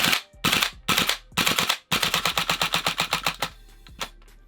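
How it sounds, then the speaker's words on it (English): A gas-powered airsoft gun fires in full-auto bursts: two short rapid strings, then a longer sustained burst of sharp cracks that slows and tapers off, close and loud with no talk. "It's actually got some decent kick on it for, I mean, it's an airsoft gun"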